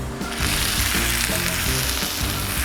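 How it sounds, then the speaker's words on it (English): Onions sauté in a pan outdoors beside a grill, giving a loud, dense, continuous sizzle with a low rumbling undertone and faint irregular knocks; close, with no voices. "our onions sauteing nicely."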